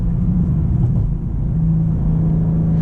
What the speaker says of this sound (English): They actually feel faster once the turbo spools up and gets going here.